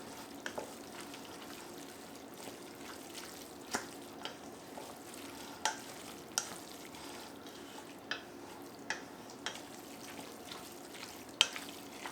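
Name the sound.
stirring and mixing the stuffed pepper filling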